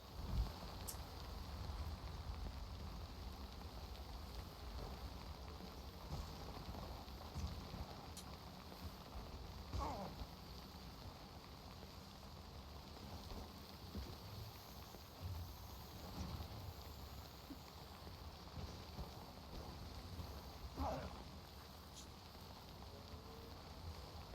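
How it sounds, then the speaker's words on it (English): Steady rain falling in the Death Stranding video game, a soft continuous patter and hiss with a few faint scattered drip-like clicks, quiet and unbroken throughout. "Oh no, it's raining."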